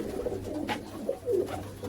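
Pigeons coo softly in short, repeated rolling calls from a bird-dealer's flock, close by and fairly quiet, with no voices over them.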